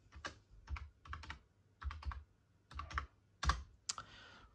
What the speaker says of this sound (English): Let me put the password in.